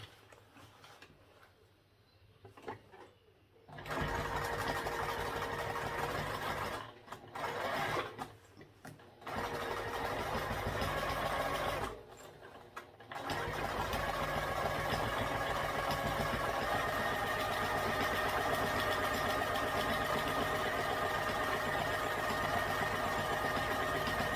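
A sewing machine topstitches a tote bag in bursts, its whirring motor starting and stopping a few times before running in one long continuous stretch, close and steady.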